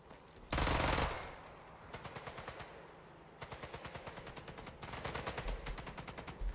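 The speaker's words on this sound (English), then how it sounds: "Where are you shooting me from?" Gunfire in the World War II shooter Sniper Elite 5: a loud blast up front, then several bursts of rapid automatic fire in sharp, rhythmic volleys, with no talking.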